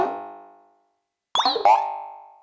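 Random arpeggiator patch on a Fred's Lab Manatee synthesizer: a sustained tonal synth note fades out, then after a short gap a few quick, bright, pitch-sliding notes burst in and hold a steady tone to the end. No talking.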